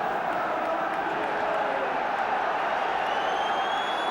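Football crowd of about 34,000 at White Hart Lane for Tottenham against Sunderland in 1977, a steady, dense roar of murmuring spectators filling the ground throughout, heard from a distance without any clear individual voices.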